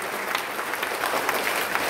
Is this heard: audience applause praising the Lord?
yes